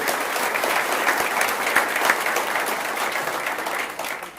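Steady applause from a sizable crowd at an association meeting, dense clapping that holds evenly for several seconds and fades slightly at the end.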